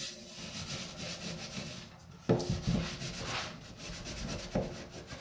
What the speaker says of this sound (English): And then just a little bit of elbow grease, using that green scrubby and an abrasive cleaner.